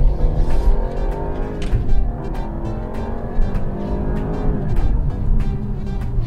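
A BMW 5 Series LCI engine revs and pulls under acceleration with a smooth, rising drone heard from inside the cabin, steady and moderately loud.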